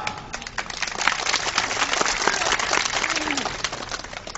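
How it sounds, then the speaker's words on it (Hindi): Applause from a mushaira poetry gathering audience in Kolhui, a dense crackle of clapping hands that swells and holds steady, with a faint voice threading underneath. "मैं चाहता हूं एक बार इनके नाम की जोरदार ताली बजाएं आप"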